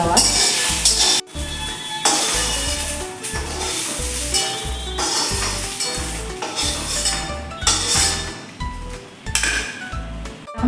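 A spatula scrapes and knocks cooked cluster beans (gawar) out of a pan onto a plate, with a steady run of clinking and scraping strokes and a soft sizzle underneath.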